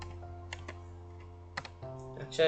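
Computer keyboard keys tapped while entering a router configuration command, a few scattered clicks in a short burst over a steady background hum, close and fairly quiet.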